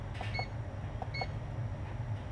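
Two short pairs of electronic beeps from an HTRC C240duo battery charger's buzzer, crisp and fairly quiet over a low background hum.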